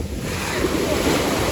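Ocean waves wash onto the shore at Jumeirah beach in Dubai, making a continuous loud roar of surf close by with heavy wind buffeting the microphone.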